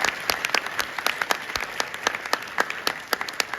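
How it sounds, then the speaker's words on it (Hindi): A university seminar audience claps in a loose, ragged burst, sharp individual hand claps repeating unevenly and moderately loud for several seconds with no one speaking. "ताली बजाओ, जोर से"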